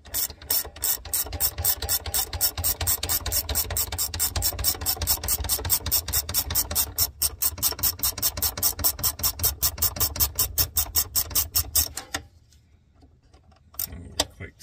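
Ratcheting wrench tightening a nut on the emergency brake of a Jeep TJ, a fast steady clicking run for about twelve seconds, loud and close, then stopping into near silence with a faint knock at the end.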